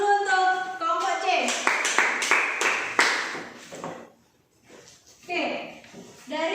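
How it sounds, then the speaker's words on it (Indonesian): Classroom applause for group C after a presentation, a burst of clapping lasting a few seconds, then a short pause and renewed voices nearby. "Kita beri tepuk tangan dulu untuk kelompok C."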